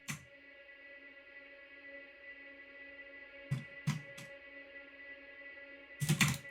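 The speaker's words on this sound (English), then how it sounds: "I just pitched that down and threw a load of reverb on it" A melodic sample pitched down and drenched in heavy reverb for a complextro electronic track: sustained, washy tones that ring throughout, with a few sharp hits in the middle and a louder burst at the end.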